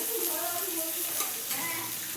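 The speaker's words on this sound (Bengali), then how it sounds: "দেখো পেঁয়াজটা ভালো করে আমি ভাজা ভাজা করে নেবো।" Onions fry in hot oil in a pan with a loud, steady sizzle, stirred throughout, close up with no voices.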